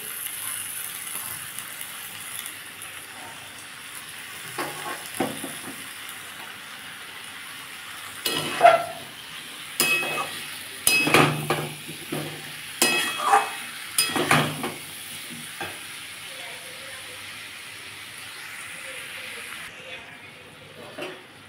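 Pumpkin and potato curry with soaked peanuts being stir-fried in a pan, a soft background sizzle broken by repeated scraping and clinking of a spatula against metal in bursts, close and fairly quiet.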